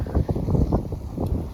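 Strong wind buffets the microphone in a cold, snowy tundra setting, a steady low roar with gusty surges and no voices.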